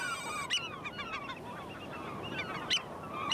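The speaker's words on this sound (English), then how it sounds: "But you hear that peeping? It's like a beep, beep, beep. It's a real chirp" Shorebirds calling on a coast where oystercatchers nest among gulls: a chorus of sharp, piping peeps and honking cries, some near and some farther off, overlapping in quick bursts.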